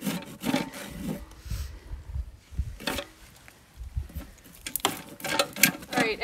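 A perimeter rasp files a horse's hoof during a trim, giving close, gritty scraping strokes in irregular bursts with short pauses between them.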